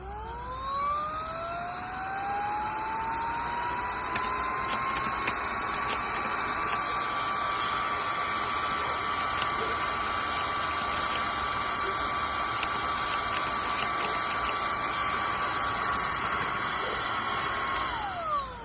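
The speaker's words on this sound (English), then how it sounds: "I'm gonna press my clean button and have it suck up the hair" A Oneisall cordless pet vacuum runs steadily while sucking up loose dog hair, a loud continuous whine with rising pitch at start-up, holding level throughout and winding down at the end, with no talking.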